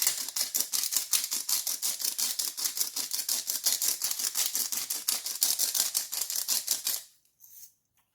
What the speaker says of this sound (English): I'm going to add a good bit of cracked black pepper